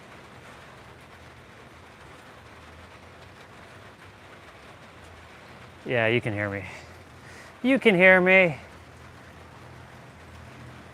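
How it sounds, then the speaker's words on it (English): Steady rain falls with a constant soft hiss all the way through, and someone speaks briefly over it. "You can definitely hear the rain."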